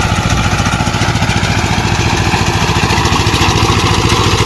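Tractor engine running steadily during wheat harvesting in Dadyal, Azad Kashmir, a loud, close, continuous rapid chugging drone with no voices over it.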